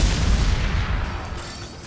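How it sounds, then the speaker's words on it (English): Big explosions in the Mass Effect 2 video game, a dense, loud continuous rumble of blasts and booms that slowly eases off, with no one talking over it. "Big old explosions going out."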